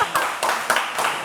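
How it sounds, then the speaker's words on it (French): Applause and clapping from a crowd, steady and fairly loud, with a faint voice mixed in. "On applaudit pour David s'il vous plaît."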